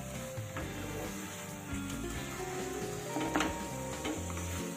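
Banana stem paste fries and is stirred in a pan, a quiet continuous sizzle broken by soft scraping and occasional spoon clicks against the pan, close and alone.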